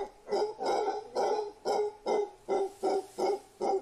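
A voice imitates a monkey barking, repeating short hoarse hooting barks in a steady rhythm, about ten in a row, close and loud.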